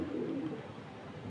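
Domestic pigeons kept at a house, a faint low coo near the start over a quiet background murmur.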